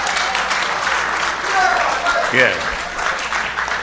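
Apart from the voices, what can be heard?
audience applause for police commissioner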